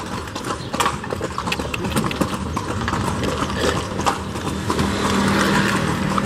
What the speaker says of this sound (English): My first ride on a horse and cart.